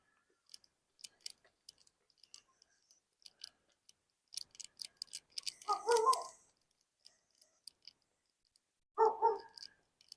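Two short bursts of dog barking on an autumn walk in Regina, one near six seconds and another near nine, set against light outdoor ticks, footsteps and scattered small sounds.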